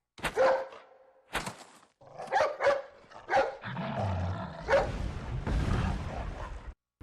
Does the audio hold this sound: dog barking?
yes